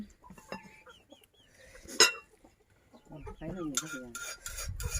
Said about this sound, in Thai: ไก่แจ้น้อย